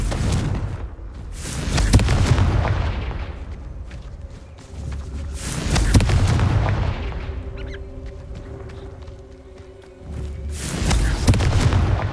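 In Hogwarts Legacy, the fiery Confringo spell sets off heavy, booming blasts in repeated bursts, loud and close, each swelling into a rumbling roar before fading.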